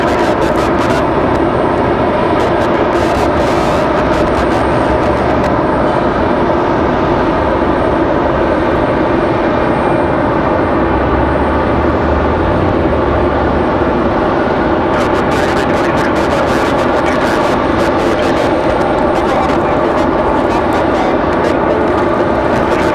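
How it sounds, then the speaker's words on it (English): A NetJets Cessna Citation XLS business jet arriving, a steady broadband jet roar that holds loud and continuous throughout, swelling slightly near the end. "We've got NetJets coming in next from White Plains. Cessna Citation XLS"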